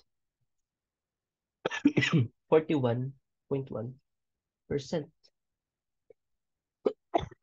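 A person coughs several times in short, sharp bursts, with pauses of about a second between them, in an otherwise quiet room.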